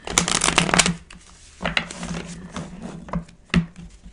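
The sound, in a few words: tarot cards being shuffled and drawn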